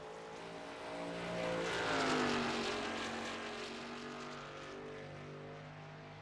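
A racing kart at a Twin Ring kart race crosses the start-finish line, its engine whining in a rising then falling pitch sweep as it passes, loud near the middle and fading off afterward.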